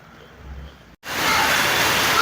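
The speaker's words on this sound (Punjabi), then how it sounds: "ਬਾਰਿਸ਼ ਬਹੁਤ ਤੇਜ਼ ਹੈ" Heavy rain pours steadily and loudly outdoors on a walking pilgrimage near Batala, Punjab, a dense unbroken roar that starts abruptly after a brief quieter stretch and a momentary gap.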